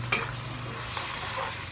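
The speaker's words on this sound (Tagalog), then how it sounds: "Lagay na natin itong pusit. Halu-haluin lang." Squid for adobo is stirred in a frying pan, a soft continuous sizzle with light scraping of the utensil, close but fairly quiet, with no talk.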